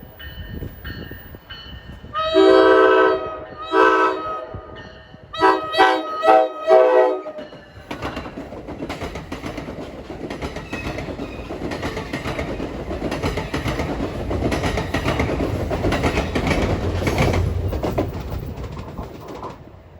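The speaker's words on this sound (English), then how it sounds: "approaching at 12:25 is train 1168 out of Waldwick for Hoboken" NJ Transit train 1168, bound for Hoboken out of Waldwick, sounds a series of loud, close horn blasts in bursts, then rumbles past steadily with wheel and rail noise building toward the end, birds faintly audible.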